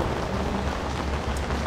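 Heavy typhoon rain pours down in a dense, steady hiss of drops hitting surfaces, close and continuous with no voices.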